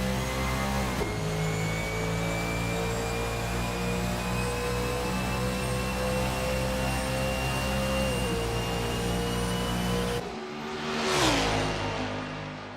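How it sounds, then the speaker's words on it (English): Racing game engines from a 1989 Camaro Z28 IMSA GTO car on the Daytona road course: a sustained droning whine with shifting pitch, then a car sweeping past with a rising and falling rush near the end. "There's not much better than sitting near here and watching the cars speed by."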